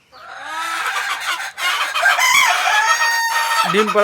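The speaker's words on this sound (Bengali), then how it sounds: "অরিজিনাল মিশরীয় ফার্মি মুরগি।" Egyptian Fayoumi chickens on a farm crow and cluck up close, with a loud, drawn-out crow filling most of the moment and clucks breaking in at the end.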